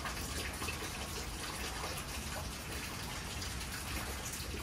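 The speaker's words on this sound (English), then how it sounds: "let me wash the brush" A paintbrush loaded with paint is rinsed out in water, giving a steady, close sloshing and splashing wash that runs unbroken throughout, with no voices.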